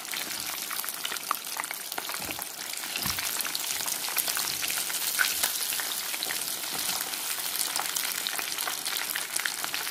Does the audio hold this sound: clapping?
no